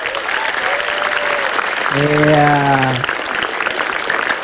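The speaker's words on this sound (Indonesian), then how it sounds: "Tepuk tangan dong buat teman-teman mahasiswa" Students in a stand-up comedy show audience applaud loudly throughout, a steady wash of clapping and crowd noise, briefly overlaid by a short spoken reply partway through.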